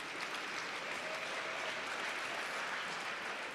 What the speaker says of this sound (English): Can you please give her a big round of applause, ladies and gentlemen?